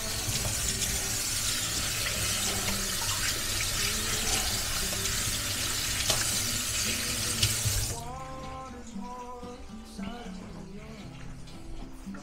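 Hands washed under a running kitchen tap while making pastry dough, a steady loud gush of water for about eight seconds before it cuts off, followed by quieter handling sounds and a voice talking.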